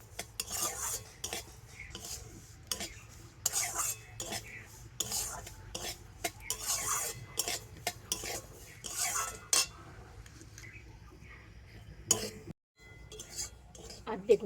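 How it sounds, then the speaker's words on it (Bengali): Semolina with a bay leaf is fried and stirred in ghee, with repeated close scraping and clinking of a spoon against the pan in irregular bursts over a faint sizzle, ending with a brief pause near the end. "তো একই সাথে ভালো করে সুজিটাকে ভেজে নেব।"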